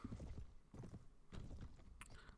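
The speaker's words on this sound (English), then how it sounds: "We do have a horse now, which is excellent, so we can get there" Steady clip-clopping of horse hooves at a trotting rhythm in the video game Mount and Blade: Warband (Viking Conquest), fairly close, with a brief bright clatter near the end.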